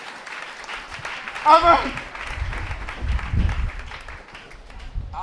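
A church congregation claps in scattered bursts during a sermon by a deacon, the applause moderately loud and mixed with a preacher's voice and an answering exclamation.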